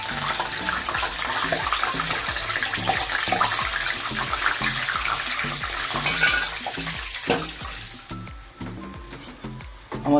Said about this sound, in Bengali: এভাবে তোমরা চিকেনগুলোকে ভেজে নেবে।